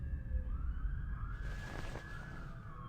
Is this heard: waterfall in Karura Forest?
no